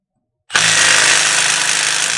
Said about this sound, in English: I hammered it on, made sure the impact was in reverse, and the bolt just came right out.